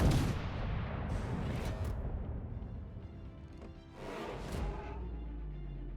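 Warship naval gunfire in a video game, heavy booming salvos with a rumbling tail, fairly distant and muffled, several blasts spread over a few seconds.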